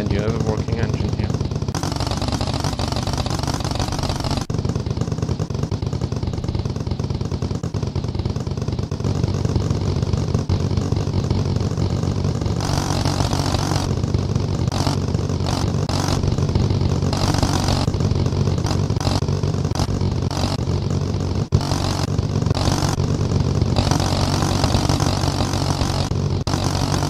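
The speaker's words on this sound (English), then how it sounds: "And you have a working engine here." A V8-style engine built from blocks in the video game Besiege runs continuously, a loud steady mechanical drone with rattling, clattering bursts layered over it throughout.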